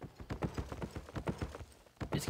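Heavy ox mount hoofsteps in Albion Online clop in a steady, even rhythm of about a dozen close, muffled thuds, with no voice over them.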